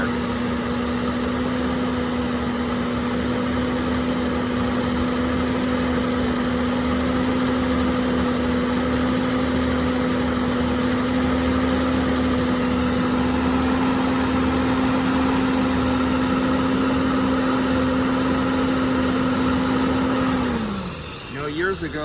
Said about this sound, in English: The fan is really moving a lot of air.